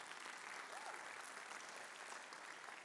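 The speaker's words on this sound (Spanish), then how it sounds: "demos un aplauso a un abogado aquí de la casa." An audience applauds a lawyer being introduced at a presentation, with steady, even clapping that stays faint and distant throughout without breaks.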